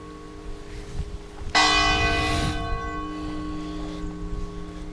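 A single church bell toll strikes loudly in a quiet Portuguese town and rings on with a long, slowly fading hum.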